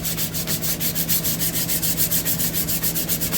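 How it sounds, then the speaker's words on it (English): A block sander with 150 grit sandpaper scrubs a wooden gun stock in quick, even back-and-forth strokes, a close rhythmic rasp repeating several times a second. "Holding firmly onto your block sander"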